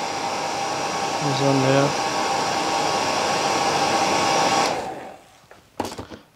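A hair dryer on a warm setting blows steadily across a Killer Shrimp Muddler fly being tied, shaping the fibres and head; the loud, even whoosh runs for several seconds before cutting off, someone briefly speaking under it.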